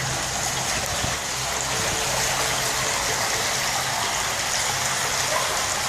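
Water flowing through an underground drain beneath Jordan Creek, a steady, continuous broadband rush with no breaks, close and fairly loud throughout.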